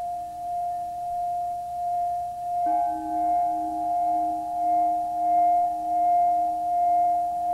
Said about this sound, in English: particular tones, one tone in particular, when vibrating sand which has been placed on a metal plate